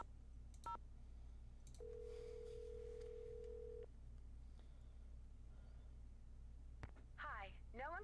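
Telephone tones from the Nancy Drew game The Haunted Carousel: a few quick dialing beeps, then a steady ringback tone lasting about two seconds, more brief tones later, with a voice speaking near the end.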